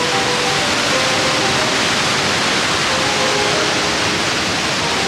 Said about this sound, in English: I think you can walk basically behind the waterfall.